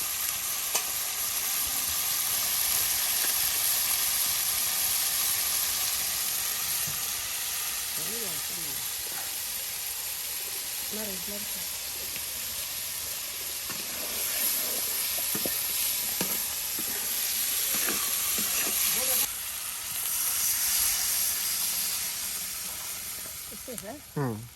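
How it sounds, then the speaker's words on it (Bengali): Country chicken sautéing in oil with ground cumin, a steady loud sizzle and hiss under occasional stirring scrapes, lasting throughout while people talk over it. "মাংসটাকে প্রথমে আপনার সুন্দর করে তেলের সাথে কষিয়ে নেওয়া হচ্ছে"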